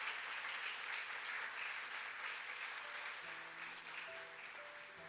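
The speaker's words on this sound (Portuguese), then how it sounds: "Você pode aplaudir a Jesus?" Congregation applauding during a church baptism service, steady sustained clapping filling the hall for several seconds, with organ or keyboard notes entering softly underneath toward the end.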